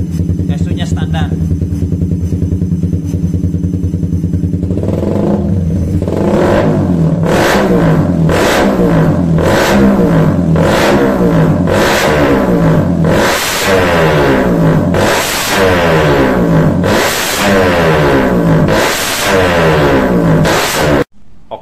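A motorcycle engine fitted with an aftermarket exhaust on a stock ECU is revved hard again and again in rhythmic bursts, a rasping throaty exhaust roaring up and falling back close by.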